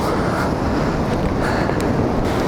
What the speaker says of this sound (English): although it's going out, there's still waves coming in here